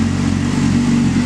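A Yamaha R6 motorcycle fitted with a TOCE exhaust idles while warming up, giving a close, steady, even burble with a constant low hum and no revving.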